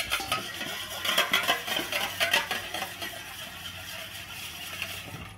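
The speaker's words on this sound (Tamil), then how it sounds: "அந்த முட்டையை நல்லா பீட் பண்ணிக்கோங்க" An egg is whisked briskly in a bowl for a honey cake, producing rapid rhythmic clicking and tapping strokes of utensil against the bowl, close and moderately loud, with no voices.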